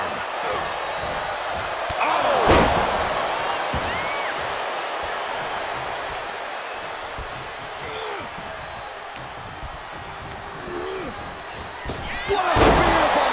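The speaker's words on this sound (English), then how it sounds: "What a spear by Reigns." A loud slam at about the two-and-a-half second mark and another near the end, set in a pro wrestling match where Roman Reigns hits a spear tackle, with steady arena crowd roar throughout.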